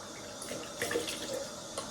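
Cold water running from a bathroom tap during a wet shave, a steady hissing stream with a few splashes and gurgles, close and fairly quiet.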